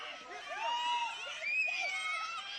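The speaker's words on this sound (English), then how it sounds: "Crowd getting behind their guys now." Arena crowd at an MMA fight cheers and shouts in swelling waves, high excited voices rising and falling at a moderate distance, fairly faint and loose rather than a single roar.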